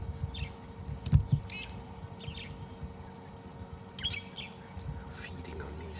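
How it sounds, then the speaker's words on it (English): Brown-headed parrots give sharp, scattered squawks and chirps on a misty South African morning while they feed on terminalia fruit. Calls from other birds are mixed in, over low steady background noise. "If you can hear those brown-headed parrots squawking."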